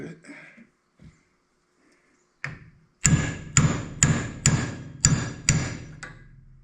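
A metal socket taps against a part on an Allis-Chalmers 6080 tractor, giving about eight sharp, evenly spaced knocks close by after a few quiet words and a single earlier tap.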